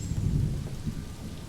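Rain falls in the Planet Zoo video game as a continuous dense patter over a low rolling rumble like distant thunder, steady throughout the short stretch.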